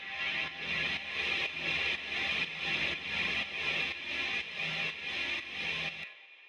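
A buzzy, distorted drone pulses in a steady wobbling rhythm, swirling with a chorus effect, then stops suddenly near the end.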